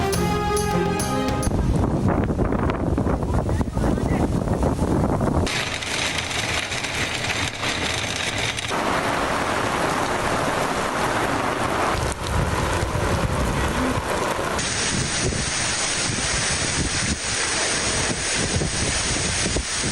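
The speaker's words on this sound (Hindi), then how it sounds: "शदीद गर्मी के बाद रावलपिंडी और इस्लामाबाद में तेज़ हवाओं के साथ तूफ़ानी बारिश।" Strong winds and stormy rain after intense heat in Rawalpindi and Islamabad roar in a loud, unbroken storm wash with heavy wind buffeting against the microphone, the sound shifting abruptly between segments.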